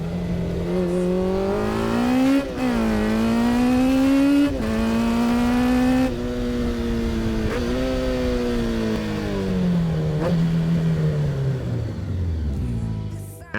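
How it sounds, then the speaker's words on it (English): Honda CB750 cafe racer motorcycle engine revving loudly and close, its pitch rising and falling through several throttle blips and settling lower at the end. "I am sure you remember this awesome CB750."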